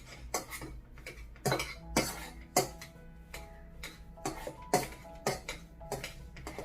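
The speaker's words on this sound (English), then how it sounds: "So I will use a potato masher like this to mash the potatoes" A potato masher working soft boiled potatoes in a pot, a series of irregular thuds and metallic clinks, about a dozen strikes at a steady uneven pace, close and fairly loud.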